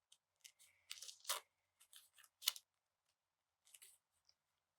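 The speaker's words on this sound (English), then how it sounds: "I'm just going to go ahead and cut." Scissors snipping around a paper restaurant logo clipped from an advertisement, heard as a few quiet, close crisp cuts and crunches in short bursts separated by pauses.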